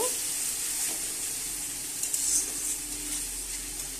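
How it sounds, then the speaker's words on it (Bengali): Lentil tadka in a pan after hot water is poured in, a steady bubbling sizzle with brief stirring scrapes midway, close and moderately quiet, no talking. "বাটিটা ধুয়ে একটু গরম জল দিয়ে দেবো আমি। দিয়ে ভালোভাবে নেড়ে নেব।"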